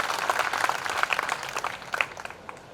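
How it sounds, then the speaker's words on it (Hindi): Loud, energetic applause from a crowd at a ceremony honouring students selected for IIT and NEET, with sharp individual claps standing out from a dense, continuous wash of clapping. "उस संघर्ष के लिए जोरदार तालियां अजीत कुमार और उसके भाई दीपेंद्र कुमार के लिए।"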